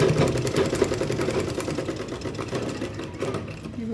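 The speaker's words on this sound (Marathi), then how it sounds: "इकडे पण अशाच प्रकारे स्टिच करून घेऊ" Sewing machine stitching a fabric makeup box, a fast steady whirring run of needle strokes that carries on close and loud for several seconds without a break.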